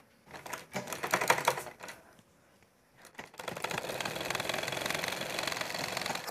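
Sewing machine stitching a two-piece cut hijab head band, bursts of fast mechanical rattling with a pause, then a steady continuous whirring run; no talking.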